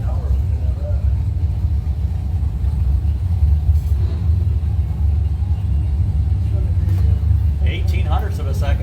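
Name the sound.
drag racing cars, Ford Mustang and Camaro racing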